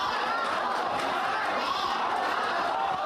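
Excited crowd roaring steadily throughout a boxing bout between fighters from Guangzhou and Fujian, a dense, continuous wash of cheering and chatter with no break.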